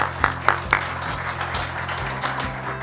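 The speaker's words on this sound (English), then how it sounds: "Big round of applause, ladies and gentlemen." An audience at a business event applauds to welcome speakers, opening with three sharp, close claps before a softer wash of clapping. A low musical hum runs underneath.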